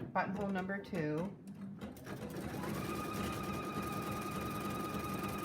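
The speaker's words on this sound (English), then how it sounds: "it's stitching buttonhole number 1" A Pfaff Icon embroidery machine stitches a buttonhole in the hoop with a steady, continuous whir, starting after a short stretch of speech and running on alone.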